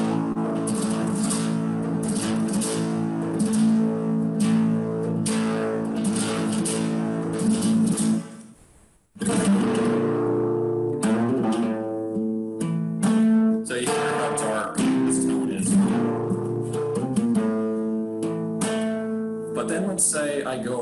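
A flamenco guitar plays seguidillas, fast strummed rasgueado passages and picked runs in a lively rhythm, with a brief pause midway before continuing.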